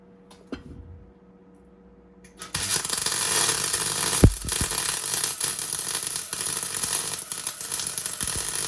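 MIG welding aluminium at the minimum setting, a brief click and hum, then a loud, steady crackling buzz with a sharp pop, continuing without pause to the end.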